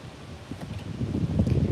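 Strong wind gusts through trees outdoors in Italy, a rough rushing roar with leafy rustle that builds louder toward the end, buffeting close to the microphone.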